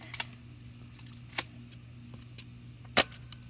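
A toy Nerf gun being loaded with a foam dart: a few sharp plastic clicks and snaps, one at the start, one near the middle and a louder crisp click toward the end, over a steady low room hum with no talking.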